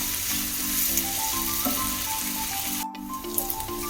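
Sliced onions salted and frying in a pan for a Kerala-style curry, a steady close sizzle with soft stirring, alone with a brief dropout near the end.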